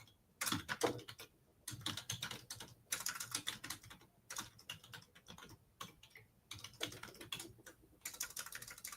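Typing on a computer keyboard, rapid uneven bursts of key clicks with short pauses between runs, close and fairly quiet, no voices.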